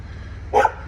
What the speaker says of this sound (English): The dog likes to talk, that's for sure.